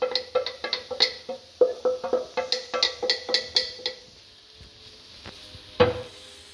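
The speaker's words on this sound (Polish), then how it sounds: "Gdy por już lekko zmiękł, dorzucamy starkowane pieczarki." Grated mushrooms tipped onto softened leek in a pan: a quick, close series of sharp utensil knocks and clinks against the pan, then a quieter stretch of stewing and one last loud tap.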